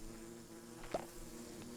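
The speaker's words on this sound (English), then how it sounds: "And their buzz is super loud" Bees in modded Minecraft Sky Bees make a faint, steady droning buzz, with a single soft click partway through and no talking.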